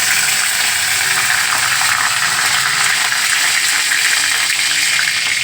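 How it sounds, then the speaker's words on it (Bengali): Bay leaf tempering dropped into hot ghee for Bengali shukto, a steady, loud, continuous sizzle and hiss filling the whole stretch without pause. "এই তেজপাতা ফোড়ন দিলাম"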